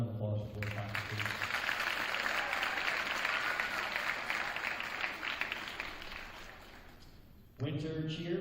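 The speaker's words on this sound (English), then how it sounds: "a round of applause for boys hockey" An audience at a school winter awards ceremony applauds the boys hockey team with a sustained, even round of clapping for several seconds before a voice begins speaking.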